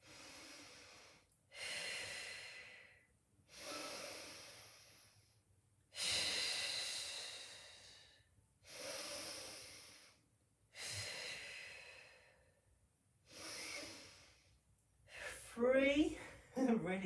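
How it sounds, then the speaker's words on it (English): Slow, deliberate nasal breaths during a Pilates hold, in and out through the nose, about seven long airy pulls spaced a couple of seconds apart, close and clear, with a brief voice near the end. "Breathing in and out through the nose."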